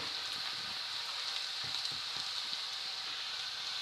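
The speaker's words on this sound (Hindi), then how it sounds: "अब हम इसमें क्यूमिन ऐड करेंगे, सफ़ेद ज़ीरा, इसे रोस्ट करेंगे" White cumin seeds roasting in a pan over already browned onions give a steady, close sizzle with fine crackling pops, continuous throughout with no voices.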